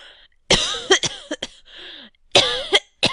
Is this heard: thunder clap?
no